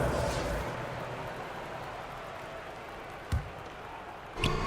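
Arena crowd applause for a dance team in the basketball video game NBA 2K23, a steady broad roar of clapping and cheering that holds for several seconds, with a couple of sharp thumps near the end.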